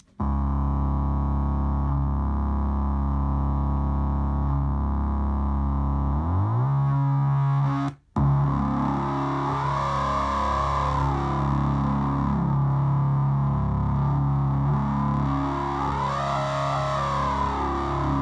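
A Moog Subfatty synthesizer plays a thick, buzzing tone with hard sync, its harmonics sweeping and shifting over a steady low note after a brief dropout, loud and distorted with no voices.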